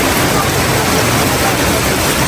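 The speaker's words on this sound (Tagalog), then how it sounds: "Grabe naman ang ulan na yan." Heavy rain pours down as a dense, loud, unbroken roar of water, steady from start to finish with no gaps and nothing else standing out.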